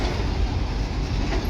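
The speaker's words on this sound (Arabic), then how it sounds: "اهو قطر ابو قير اهو. هسيب لكم الصوت بتاعه" A train passing on the tracks in Alexandria, Egypt, near Maamoura station: a close, steady rolling rumble of wheels and cars that holds evenly for the whole moment.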